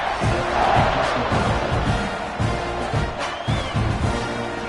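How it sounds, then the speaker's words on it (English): A large football stadium crowd cheers and roars continuously after an extra point in a Texas A&M versus Ohio State game, a loud, dense wall of voices rising and falling without letup. "this crowd is feeling themselves after that last drive"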